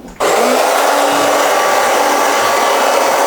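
A hair dryer fitted with a diffuser switches on and blows steadily while drying hair after a haircut, a loud, constant whooshing roar that lasts throughout.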